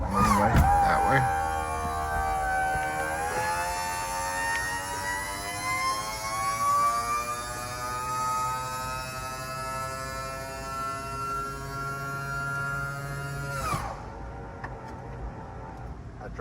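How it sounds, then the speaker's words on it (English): A hydraulic convertible top on a 1968 Chevy Impala lowering, a steady electric pump whine rising slowly in pitch under a low hum, running for about twelve seconds before cutting off abruptly. "Hydraulic top on that thing works fantastic."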